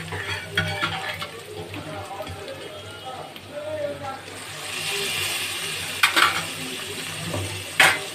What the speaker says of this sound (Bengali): একটু আদা গ্রেট করে রেখেছি ওটা দিয়ে দিলাম নেড়ে চেড়ে দেখো